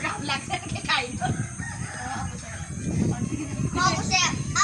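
Chickens cluck and a rooster crows at a village farmyard, fairly close and moderately loud, while people talk over the birds.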